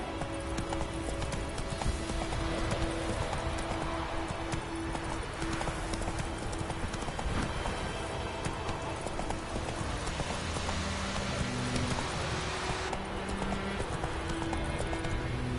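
A horse in The Witcher 3 video game gallops with steady, rapid hoof clip-clops and whinnies now and then. The sound is continuous and fairly loud, with the game's ambient backdrop underneath.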